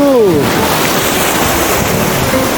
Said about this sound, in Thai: น้องลิต้าจะเป็นครั้งแรกที่ได้จุ่มตัวในน้ำทะเล